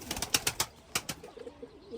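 Pigeons coo softly with a few brief fluttering clicks nearby, faint and intermittent, no voices.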